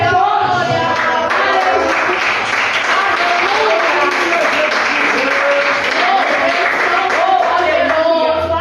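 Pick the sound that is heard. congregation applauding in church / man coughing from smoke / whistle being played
congregation applauding in church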